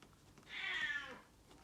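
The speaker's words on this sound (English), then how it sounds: "Sorry, that was my cat." A house cat lets out one drawn-out meow, fairly faint and heard alone against a quiet indoor background.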